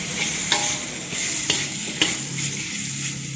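Chicken feet stir-fry in a hot pan for a homestyle Chinese vegetable stew, a steady close sizzle broken by a few sharp clinks and scrapes of the utensil against the pan.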